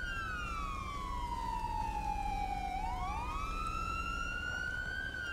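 Ambulance siren in GTA V with the LSPDFR police mod, a loud steady wail sweeping down and back up as the emergency vehicle pulls up close, with a low engine rumble underneath and no talk.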